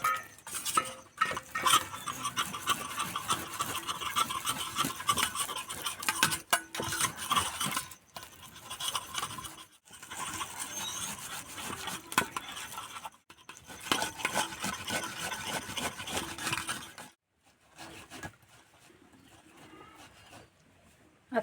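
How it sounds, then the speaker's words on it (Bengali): A palm fruit seed is grated by hand, giving close, repeated rasping scrapes in bursts of steady strokes separated by short pauses. "আর তালের আঁটিটা ঘষা হয়ে গেছে"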